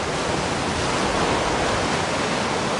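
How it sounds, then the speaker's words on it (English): A tsunami wave spills over a sea wall onto a coastal road in Kona, Hawaii, making a steady, dense, heavy rush of pouring water, loud and near throughout, with no voices. "Pouring over the wall."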